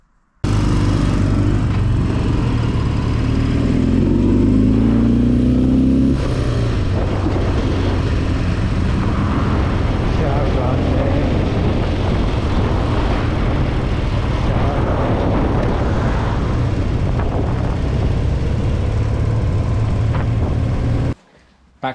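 Ex-police 1978 BMW R80/7 motorcycle on a test ride, its engine droning loudly and continuously with rising and falling revs under heavy wind rush, up close throughout, then cutting off abruptly at the end.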